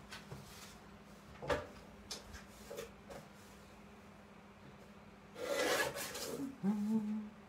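Paper trimmer slicing through paper during an art journal project, heard as a few faint rasping strokes and soft rubs, with a louder, longer cutting pass near the end.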